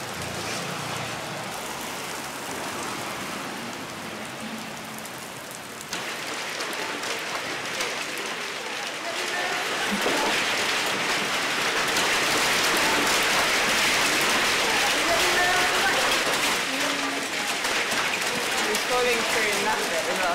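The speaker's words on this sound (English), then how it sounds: "The hailstones are like this big." Hailstones pelt down steadily, a dense broadband clatter that grows louder and heavier partway through and continues without break, with faint voices underneath.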